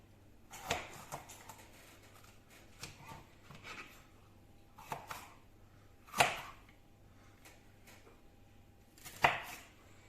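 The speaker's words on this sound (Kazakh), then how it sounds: "Енді болгарский тураймыз." A knife chops bell pepper on a cutting board in a handful of sharp, separate cuts spaced irregularly a second or more apart, close and fairly quiet, with no talking.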